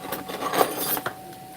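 An old file scrapes across a small rubber wheel being shaped for stone setting, making a few short, close rasping strokes of uneven length at moderate volume.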